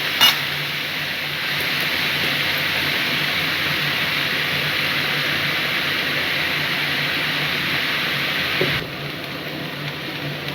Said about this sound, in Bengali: নিরামিষ মূলোটাকে আমি এখন একটু ভেজে নিচ্ছি